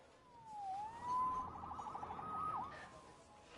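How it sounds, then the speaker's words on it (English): A police siren wails in Spider-Man gameplay, its tone sweeping down and up in a clear rising and falling pattern. It sounds moderately distant and plays on its own. "Saved by the siren."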